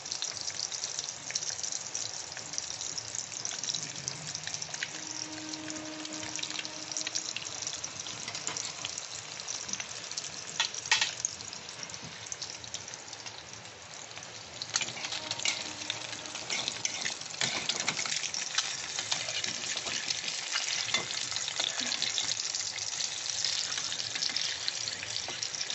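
Eggs fry in oil in a small wok while making egg korma, giving a steady, close crackling sizzle that runs without a break and has occasional louder pops and spatters. No one speaks.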